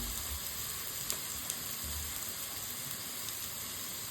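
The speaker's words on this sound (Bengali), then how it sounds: "পেঁয়াজ, কাঁচামরিচ, রসুন দিয়ে প্রথমে একটু তেলে করে নিচ্ছি" Onion, green chili and garlic fry in oil, giving a steady, close hiss and sizzle with a couple of faint clicks and a low rumble underneath, and no voice.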